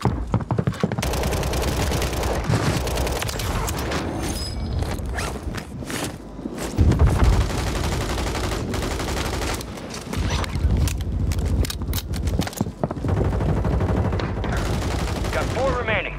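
Rapid bursts of WSP 9 submachine gun fire in Warzone on Rebirth Island, loud and close, broken by short pauses, footsteps and other game noise, with voices over parts of the action.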